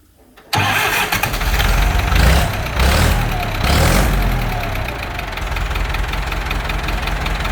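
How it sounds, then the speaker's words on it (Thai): A Ford 5000 diesel tractor from 1977 with a round injection pump starts after a brief quiet moment, then settles into a loud, steady, knocking idle close by. "เครื่องติดง่ายครับ เครื่องนิ่มครับ ตัวนี้เป็นปั๊มกลม"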